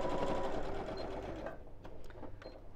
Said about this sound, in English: I'm just sewing around the edge